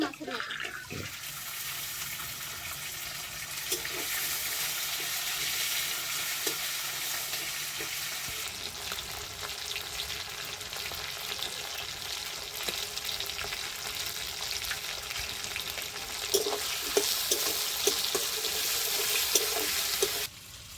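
Hilsa fish heads frying in a pan with green chillies for a kochu shak dish, a steady broadband sizzle throughout with occasional clinks and scrapes of stirring, growing louder near the end.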